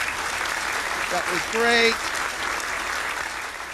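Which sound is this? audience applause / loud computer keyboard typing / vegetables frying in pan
audience applause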